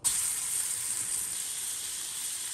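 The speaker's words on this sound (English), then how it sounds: "We're gonna give it a sear." Steak sears in a hot pan as a continuous bright hiss and sizzle that starts abruptly and holds steady, fairly loud and close with no voices over it.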